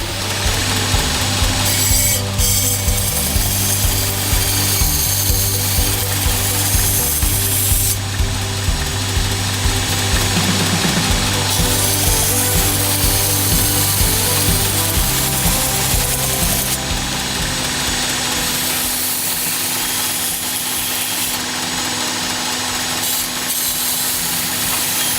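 A belt grinder fitted with a 120 grit belt grinds surface damage off a knife blade, giving a loud, steady abrasive rubbing roar that runs on without pause and surges and eases as the blade is pressed and lifted.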